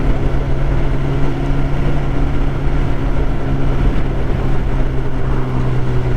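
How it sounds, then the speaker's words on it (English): A Suzuki GSX 600F motorcycle running on the road, a steady droning engine hum with strong low tones and constant wind rush throughout, loud and continuous with no talk. "So I'm out today on Mr. Suzuki, my GSX 600F"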